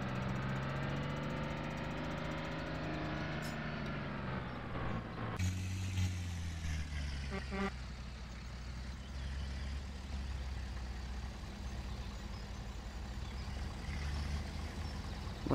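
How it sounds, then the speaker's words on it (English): A truck engine idles in the farming video game Farming Simulator 2013, a steady low rumble with a droning tone that shifts pitch slightly partway through, continuous and fairly quiet. "Love the sound of this truck."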